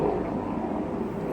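A helicopter passes overhead as a low, steady rumbling drone, moderately loud and unbroken, with no one speaking.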